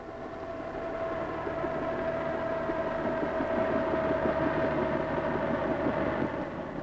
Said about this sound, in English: he hears the welcome noise of the whirlybird